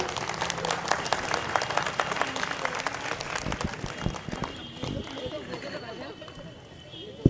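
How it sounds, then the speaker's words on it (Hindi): An audience claps at a political gathering of the AIMIM party, a dense burst of applause mixed with crowd chatter, with a voice talking over it. "एक जोरदार तालियां"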